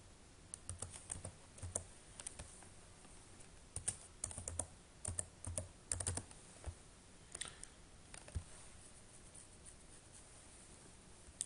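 A phone number is typed on a computer keyboard into a web sign-up form: soft, quick bursts of key clicks with short pauses between, close and fairly quiet, no talking.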